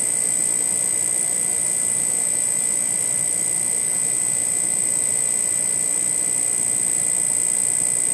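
An electrostatic-powered magnetic levitation motor spins at high RPM while still accelerating, giving a steady, loud high-pitched whine with constant tones over a broad hiss, with no talking.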